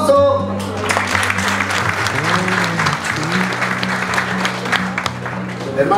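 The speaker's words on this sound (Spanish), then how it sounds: "¡Un aplauso!" Audience applause at an aloe products presentation fills the room with steady, loud clapping for about six seconds, while a low tonal hum and background voices run beneath it.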